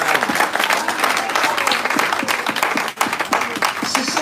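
A church congregation applauds together, dense, loud and continuous clapping filling the room with a few voices mixed in.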